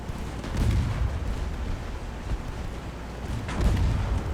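In the naval game Ultimate Admiral: Dreadnoughts, a warship's bow torpedo tube fires amid a rumbling, booming battle soundscape, with muffled low thuds swelling and fading over continuous background noise.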